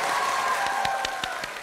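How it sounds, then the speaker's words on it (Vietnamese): Studio audience applauding quiz show contestants on a televised academic competition, a dense, steady wash of clapping with individual claps standing out, loud and continuous throughout. "hãy dành một tràng vỗ tay thật lớn cho cả bốn thí sinh của chúng ta"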